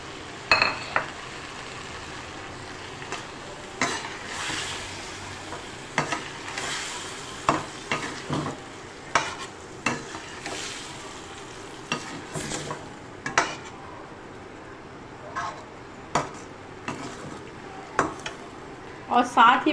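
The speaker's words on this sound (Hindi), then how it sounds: "मोटी मोटी कटी हुई वेजिटेबल्स हैं, गाजर है, शिमला मिर्च है, ये इसके अंदर ऐड कर दूँगी" Chopped carrots and capsicum stirred into chicken gravy in a pan, with repeated spoon scrapes and clinks against the metal over a low, continuous sizzle.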